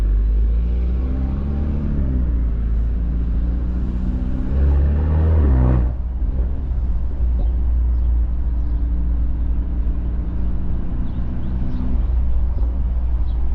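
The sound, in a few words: 4-cylinder car engine while driving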